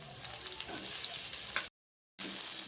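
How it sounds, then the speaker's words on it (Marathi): Tomatoes and onion with chilli powder sautéing in a pan for paneer chilli, a steady broadband sizzle close up, briefly cut to silence before the frying noise resumes. "परतून घेऊया छान।"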